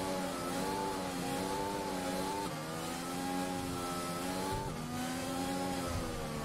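A Formula 1 race car in the F1 2021 video game at the Austrian Grand Prix revs continuously and loudly, its engine pitch dropping sharply at two gear shifts and then climbing again.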